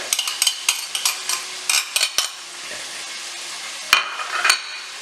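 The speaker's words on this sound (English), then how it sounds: "we're going to fry these until they're golden brown" Chicken wings fry in hot oil with a steady crackling hiss, broken by sharp clicks and clinks of utensils against cookware.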